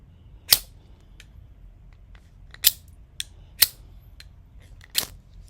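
Sparks struck with a Civivi Elite Brova knife: five sharp, separate scrapes spaced irregularly over a few seconds, close and crisp against near silence.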